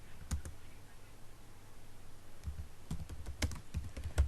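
Keys on a computer keyboard are struck while text is typed into an MS Word document, with a few isolated clicks followed by quick clusters of close, light keystrokes and no talking.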